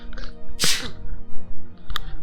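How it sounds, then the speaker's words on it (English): A single sharp, loud sneeze bursts out close to the microphone, followed by a quieter sniff or breath, alone without speech. "sorry, I had to sneeze."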